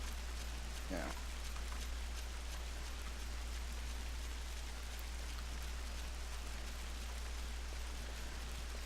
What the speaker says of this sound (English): This place is actually kind of tranquil with just the rain sounds.